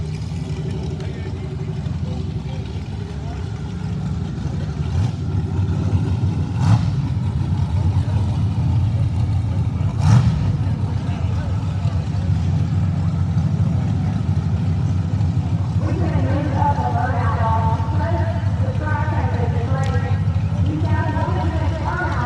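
A nitrous Chevy Nova and a turbo Camaro sit at a no-prep grudge drag strip, their engines holding a loud, steady low rumble throughout, with voices talking over it.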